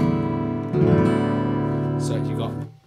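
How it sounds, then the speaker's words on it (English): An acoustic guitar in drop D tuning rings out a low, full strummed chord that sustains and slowly fades, with further notes added partway through, close and loud. "Drop D would sound like this"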